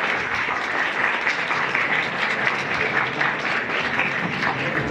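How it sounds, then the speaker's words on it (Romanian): An audience at a village folk festival applauds the master Adrian Stancu, a steady, dense wash of clapping that holds at even strength for the whole stretch, with no voices over it. "Haideți să-l aplaudăm așa cum se cuvine pe maestrul Adrian Stancu"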